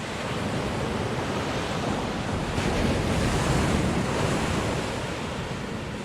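Ocean surf rolling in steadily on a beach in Carlsbad, California, a broad continuous wash of waves with wind noise over the microphone.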